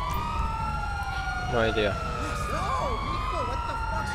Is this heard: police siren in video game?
yes